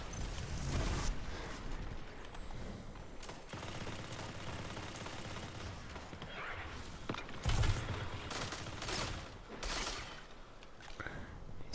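Gunfire during an Iron Banner match in the video game Destiny, with bursts of rapid automatic shots and sharp blasts mixed into a busy game soundscape, fairly quiet overall.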